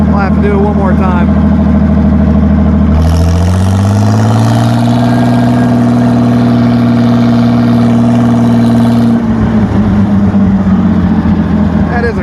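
A 90-horsepower six-cylinder tractor engine running with its muffler removed, loud and raw, idling with a harsh throb before the revs rise and hold in a strong steady drone, then drop back.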